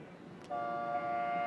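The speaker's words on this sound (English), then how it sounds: "I just heard the horn for boat number 12" A brief, steady starting horn blast at a dragon boat race sounds partway through, faint and distant over outdoor background noise.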